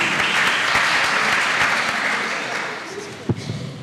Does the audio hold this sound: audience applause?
yes